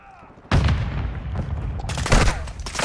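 Call of Duty video game gunfire, a loud sudden volley of shots that keeps crackling with repeated bursts and a heavy boom near the end, close and intense.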